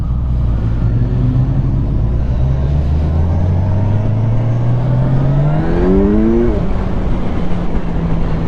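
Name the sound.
Kawasaki Ninja 1000SX motorcycle engine revving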